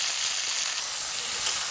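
Chopped tomatoes fry in hot oil over a tempering of mustard seeds and dried chillies, giving a soft, continuous sizzling hiss for a brief moment.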